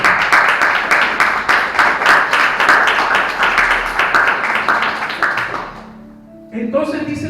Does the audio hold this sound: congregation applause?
yes